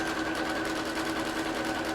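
A sewing machine stitches a quilt with navy cotton thread, running a crosshatch line in a steady, unbroken whir, close and loud.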